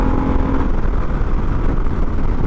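A Suzuki DR650 motorcycle with a custom exhaust pipe rides along a road, its engine giving a steady, loud, rumbling drone under wind rush, with a brief tonal whine early on.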